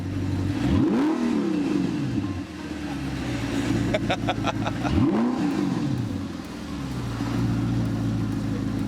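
An Audi R8's V8 through an upgraded aftermarket exhaust revs sharply twice, each blip rising and falling quickly, with a crackling burble in between and a steady idle rumble around them.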